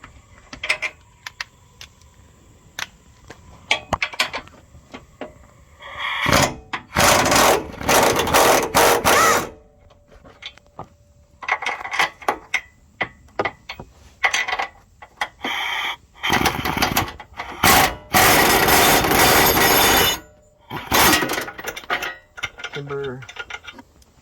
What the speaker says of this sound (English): to remove these, we're going to use an 18mm deep well socket, the swivel, and our impactor